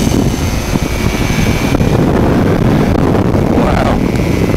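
A Flylight Aeros NINE microlight aircraft with a 235cc Black Bull engine drones steadily in flight, loud and close, with heavy wind buffeting the microphone and no speech.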